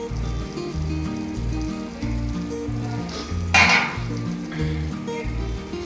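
Mashed potato filling for masala dosa is stirred and mixed in a hot pan, with a steady sizzle, rhythmic scraping strokes and a brief louder clatter midway.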